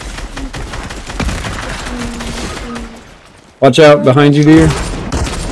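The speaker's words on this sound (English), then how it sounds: "Machine gun." Rapid automatic gunfire from a multiplayer shooter game rattles behind someone talking, then a loud burst of voiced game audio cuts in near the end.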